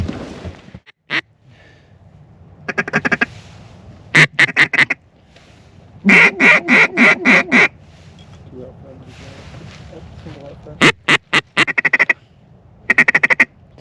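A duck quacking loudly outdoors during a Montana waterfowl hunt, in repeated rapid bursts of several harsh quacks each, close by, with a person speaking quietly in between.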